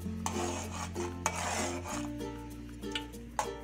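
A spoon stirs thickening kheer, a rice pudding, in a pot, making repeated soft scraping strokes against the metal over a steady low stovetop hum.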